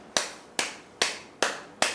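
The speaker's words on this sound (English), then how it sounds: "This is a timely sequence of claps, right?" Five sharp hand claps in an even, steady rhythm, each bright and close with a short decay, evenly spaced about every 0.4 seconds with no voices.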